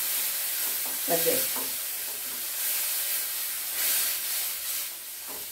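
Ground tomato, onion, ginger and garlic paste sautés in a pan with a steady hiss and sizzle, broken by a few stirring scrapes, and a brief spoken word sits over it.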